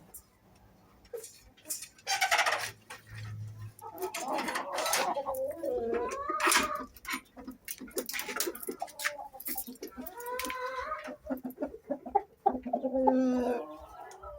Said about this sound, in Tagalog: Yan yung rooster natin, Rhode Island.